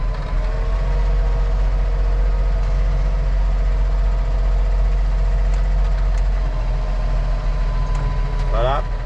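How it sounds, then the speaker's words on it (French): A tractor engine idles steadily with a loud low drone throughout, close by and constant, with a brief higher rattle near the end. "J'arrête mon tracteur"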